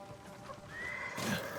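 A horse in a video game, Ghost of Tsushima, whinnies in a high, wavering neigh, moderately close, with soft hoof clops and faint background ambience.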